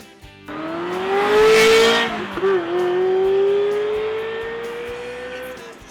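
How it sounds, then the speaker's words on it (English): A Ferrari F355 engine revs up to a loud, rising scream, dips briefly, then holds a strong, steady howl before fading away toward the end. "the best sounding Ferrari of all time, the F355, is released in the US"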